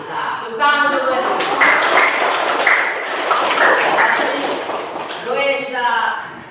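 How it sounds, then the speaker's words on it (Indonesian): A classroom group applauds, with hands clapping steadily over several seconds while a voice talks before and after it. The clapping is fairly loud and close. "Tepuk tangan dulu ya."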